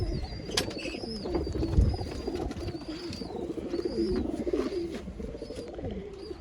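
Pigeons coo in a steady, continuous murmur among scattered chirps and faint fluttering, fairly close and busy like a crowded loft.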